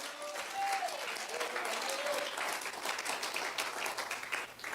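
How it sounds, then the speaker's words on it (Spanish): Church congregation applauding, a sustained wash of many hands clapping at moderate volume, steady and even throughout, with voices calling out faintly beneath it. "Dale un aplauso al Señor."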